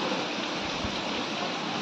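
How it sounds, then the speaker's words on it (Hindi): Heavy rain driven by strong wind on a stormy night pours in a steady, dense broadband wash with no break, fairly faint and even throughout. "देखिले कितने जोरे वर्षा पवन होची"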